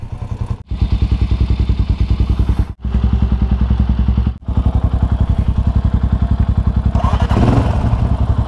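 A Cafe400 motorcycle on the road, its exhaust throbbing loud and close in a rapid, even pulse, broken by three short dropouts like gear changes, with a rougher swell at the end.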